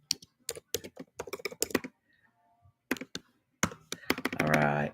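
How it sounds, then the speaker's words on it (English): Bursts of fast computer-keyboard typing in quick clusters of keystrokes, close and clear, with a short pause in the middle and a voice briefly talking near the end. "I'm typing this out."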